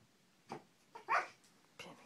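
A small dog, either a Shiba Inu or a Corgi at play, gives a few faint, short yips and barks spaced across two seconds, quiet and slightly distant in a still indoor room.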